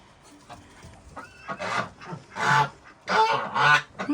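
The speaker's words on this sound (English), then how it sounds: "A little goose activity, but nothing serious." Geese honk outdoors in a series of loud, nasal calls that come in irregular bursts, starting faint and growing closer and stronger toward the end.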